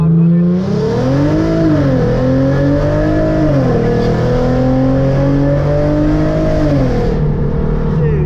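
Hyundai Genesis Coupe with an ISR exhaust revving hard in first gear, a loud raspy engine note climbing and falling through repeated pulls with a rising whine, close and continuous.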